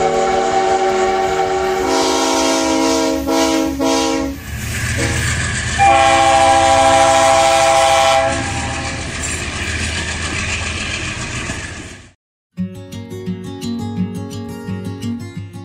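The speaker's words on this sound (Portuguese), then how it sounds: "eu já tô começando a ouvir a buzina do trem daqui" A loud, sustained train horn blares in long tones nearby at Cana Verde, Minas Gerais, Brazil, with the rumble and rhythmic clatter of a passing train, then a sudden cut to quieter rolling.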